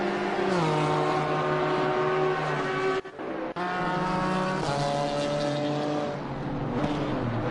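GT4 race cars lapping the Barcelona circuit in an endurance race, engines roaring loudly and continuously with rising and falling pitch through gear changes, a brief dip near the middle, no talk.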